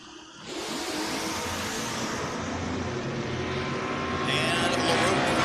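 Drag race launch of an 1984 Mustang against a Chevrolet S10 at a door car event: engines burst into a loud, sustained roar after a brief quieter start, intensifying toward the end.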